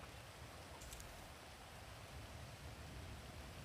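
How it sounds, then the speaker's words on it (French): Rain in a GTA roleplay game, a soft steady hiss of falling rain filling the clip, fairly faint and continuous, with no talking. "Putain, il pleut."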